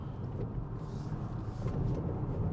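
A 2024 Volvo C40 electric car speeds along mountain roads at Genting, with a steady, dense rumble of road and wind noise inside the cabin and no speech.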